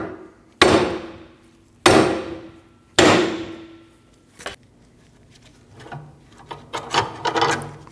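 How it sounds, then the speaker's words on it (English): Three sharp, loud hammer blows ring out at even intervals on a 2012-2022 Volkswagen Passat steering knuckle to break the ball joint free, followed by lighter metallic knocks and scraping. "I'm going to use a hammer and release the tension between the ball joint and the knuckle"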